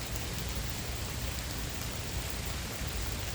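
Steady rain pours down in a continuous, even hiss that stays loud and unbroken throughout, with no voices over it.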